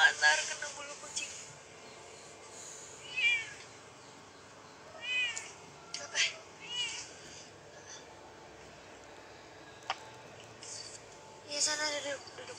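A cat meows in a few separate short calls spread through the scene, moderately close, over soft indoor background with people talking nearby.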